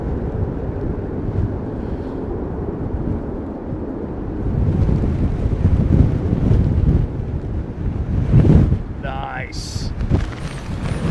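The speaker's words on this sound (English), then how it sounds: "Wind has just picked up again." Storm Darragh wind at London Heathrow Airport roars and buffets against the microphone in heavy gusts that swell and ease. A brief spoken remark is heard over it.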